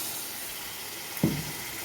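Spiced mung dal and potatoes frying in a pan for banana-stem (thor) curry, a steady close sizzling hiss with one brief louder stir scrape midway.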